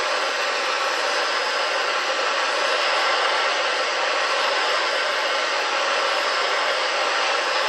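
Torch flame heating a car quarter panel in a garage, a loud, steady roar that holds without a break.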